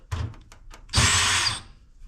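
Short whirring bursts from a power drill loaded with a bit, used while scrapping a fire-damaged computer: a few brief stuttering pulses, then one louder sustained spin of about half a second, close and loud with no talking.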